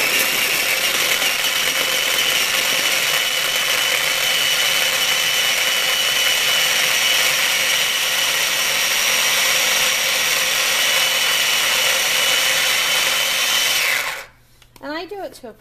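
Fresh garlic being chopped in a food processor: a loud, steady motor whir with rough grinding runs for about fourteen seconds alone, then stops abruptly, followed by faint handling noises.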